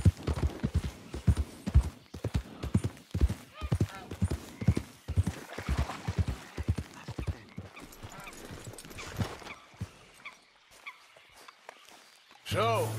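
A horse gallops in the video game Red Dead Redemption 2, its hooves pounding in a fast, rhythmic run that slows and fades toward the end.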